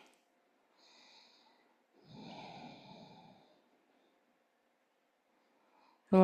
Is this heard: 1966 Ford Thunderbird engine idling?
no